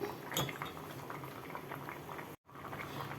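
Karuppu kavuni rice boils in a pot, a dense, steady bubbling and hissing with an occasional light clink of a utensil, close and fairly quiet, broken by one brief gap.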